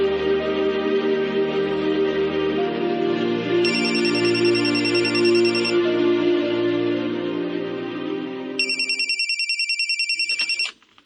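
A phone ringing while a call to mother is placed, a loud electronic ringtone melody with repeating tones that switches to an outgoing ring pattern before cutting off abruptly.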